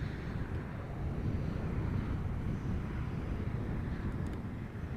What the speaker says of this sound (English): Flying from east to west, almost immediately over me, a little bit to the north of me, is this twin jet.